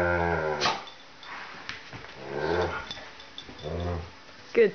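Two playing dogs growl low and whimper with short yips. The sounds come close and moderately loud in uneven bursts, with a sharper yelp near the end.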